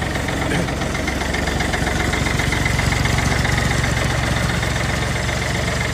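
A Shifeng 350 tractor engine idling evenly nearby, a loud steady low rumble with a regular fast chugging beat and no change in pace.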